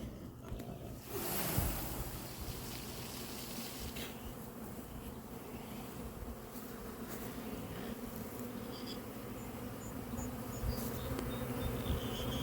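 A honey bee swarm buzzes around a tree outdoors, a dense, steady drone of many wings that stays loud and close throughout, with a few louder passes as individual bees fly near.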